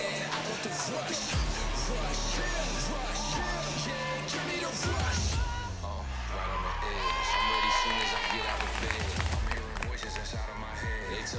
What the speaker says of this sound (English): we can hear the excitement in the crowd already starting